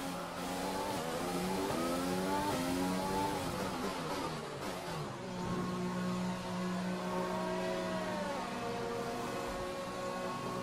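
Formula 1 race car engine in a video game at the Australian Grand Prix, revving steadily with rising and falling pitch as it accelerates and shifts gears, continuous and fairly quiet throughout.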